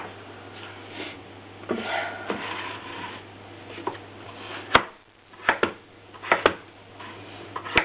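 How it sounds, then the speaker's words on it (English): A knife chops pumpkin into small chunks on a board, with scattered soft cuts leading into several sharp, distinct chops later on, close and fairly quiet, with no talking. "Cut it into small chunks."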